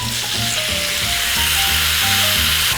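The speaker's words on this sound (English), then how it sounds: "I'm going to grill it each side for about 3 to 4 minutes" New Zealand grass-fed rib-eye steak sizzles loudly on a very hot grill, a dense, continuous crackling hiss close up with no voice over it.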